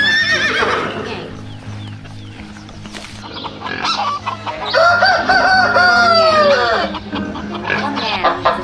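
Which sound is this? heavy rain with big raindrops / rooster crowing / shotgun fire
rooster crowing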